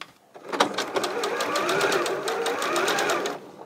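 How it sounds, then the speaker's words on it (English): A sewing machine stitches seams through quilt fabric a scant quarter inch from a line, a fast steady mechanical whir with rapid needle clatter that starts after a brief pause and runs continuously to the end. "I'm just going to sew 1/4 inch on both sides of the line."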